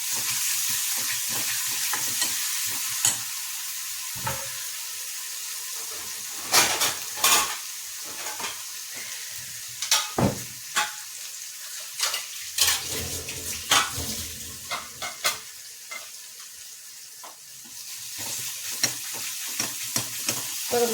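Onions frying in a pan for a Kerala potato stir-fry (urulakizhangu mezhukkupuratti), a steady close sizzle broken by repeated sharp scrapes and clatters of stirring, with no talk.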